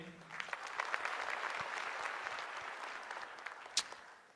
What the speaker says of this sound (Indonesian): Tepuk tangan dulu buat teman-teman gue ini.